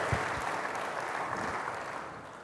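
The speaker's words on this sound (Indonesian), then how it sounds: "Berikan tepuk tangan yang hebat bagi Tuhan." A church congregation applauds during a sermon on the outpouring of the Holy Spirit, a short burst of steady clapping from many hands, moderately loud with no voices over it.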